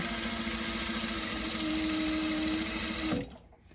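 A sewing machine stitches a fabric bag in a fast, even mechanical whir with a fine rhythmic chatter, loud and close, stopping abruptly just after three seconds.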